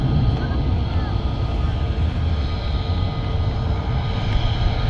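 An approaching airliner at Manchester Airport rumbles as a steady, broad roar that holds through the whole stretch, fairly loud but distant, with a faint high whine.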